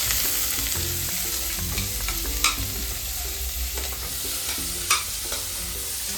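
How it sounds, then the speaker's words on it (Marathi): Plenty of onions frying in oil, a continuous sizzle with spoon stirring and a couple of sharp scrapes against the pan, no talking. "तर आता आम्ही या कांद्याला छान असं तेलात भाजून घेणार आहोत."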